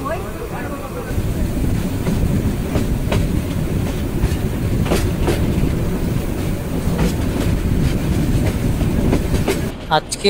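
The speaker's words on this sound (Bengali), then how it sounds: "বিকেল 4:05 ট্রেন ছেড়ে গেল জামালপুর টাউন জংশন স্টেশন থেকে" A train departing Jamalpur Town Junction station in Bangladesh rumbles steadily along the rails, a loud continuous roar with faint clacking of wheels throughout, up close.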